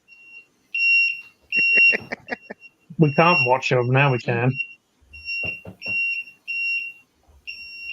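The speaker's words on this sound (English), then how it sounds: "That's a fire alarm." A fire alarm beeps repeatedly in short, steady high-pitched bursts through the whole scene, carrying on under and between people talking nearby in a home kitchen.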